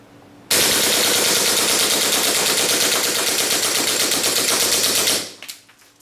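A WE G18C airsoft pistol fitted with a steel slide and steel outer barrel fires full auto in one long, loud, rapid burst of close mechanical clacks lasting about five seconds before stopping abruptly.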